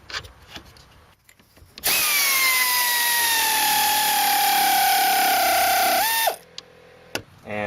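A power tool drives strut mount bolts inside a car trunk while installing Monroe Quick Strut rear struts, running as one loud, steady whir for about four seconds with pitch slowly falling, then stopping abruptly.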